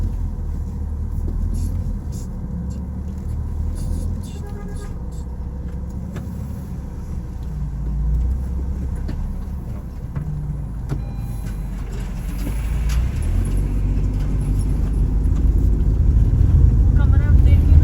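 A Tata Tigor car driving off-road near Dehradun and Mussoorie, giving a continuous low engine rumble with bumps and scrapes that grows heavier toward the end, while people talk inside the car.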